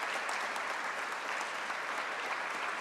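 An audience claps for award winners at a 2018 welcome session, a dense, steady round of applause from a crowd that fills the whole stretch without a break.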